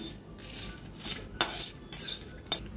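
Red chillies and poppy seeds dry-roasting in a kadhai with coriander and cumin, no oil, giving a few sharp metallic scrapes and clinks of a spoon against the pan over a soft, steady background.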